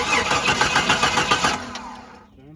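A Jeep engine cranks with a rapid rhythmic chugging, then catches and settles briefly before fading, loud and close.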